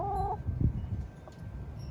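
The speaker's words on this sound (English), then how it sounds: "I'm gonna leave you with my neighborhood chickens" Neighborhood hens clucking nearby, a few soft clucks and a brief call over quiet outdoor background, no talking.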